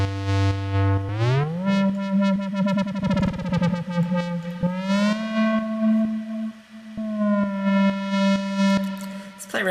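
A buzzy square-wave synthesizer tone glides between pitches and holds sustained notes, with rapid wobbling modulation in the middle and a reverberant tail.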